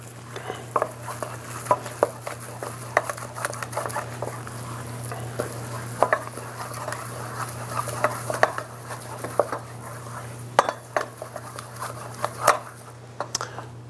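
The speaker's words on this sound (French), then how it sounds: "et je vais mélanger. J'utilise la spatule en bois de mélanger." Wooden spatula working choux pastry dough of flour and liquid in a pot, giving soft, irregular scraping and slapping strokes over a steady low hum, close and moderately quiet.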